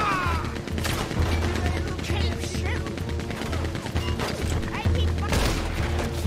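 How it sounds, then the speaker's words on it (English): Rapid bursts of Gatling gun fire crackle and boom in Red Dead Redemption 2, loud and dense, with clattering impacts and a few brief pauses between volleys. "There's your Gatling gun."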